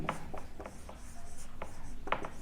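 Pen scratching across paper while working a calculus problem, a steady run of short close strokes and scribbles over a low constant room hum.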